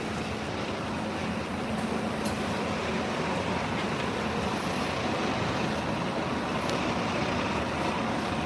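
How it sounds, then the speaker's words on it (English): Buses and other traffic rumble past on a busy Edinburgh city street, a steady, loud wash of engine and road noise with no pauses. "Just going to get past these buses because I think it's very noisy here."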